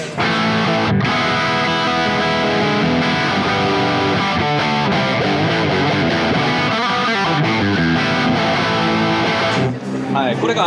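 Electric guitar through a distortion amp at a pedal trade show, playing loud, dense, saturated chords and riffs continuously for about ten seconds before a brief drop near the end.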